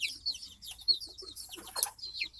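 Backyard chickens cluck and chirp close by, several short overlapping calls in a busy, irregular rhythm, with no talking.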